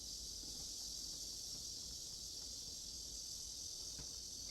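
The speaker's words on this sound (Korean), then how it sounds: "매미들이 아멘 소리가 너무 크네" Loud, steady cicada buzzing fills the air outdoors in summer, a dense continuous drone that does not let up, with faint low rustling beneath and no talk.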